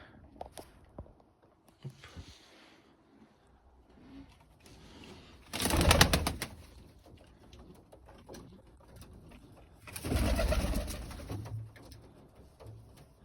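A small flock of domestic pigeons in Boryspil coos softly and steadily nearby on a drizzly day, with two louder bursts of fluttering wings partway through; no one speaks.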